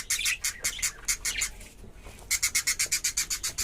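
A pair of caged pet cockatiels chirp nearby in rapid, repeated bursts of shrill high calls, a short flurry, a brief pause, then another quick run of evenly spaced chirps.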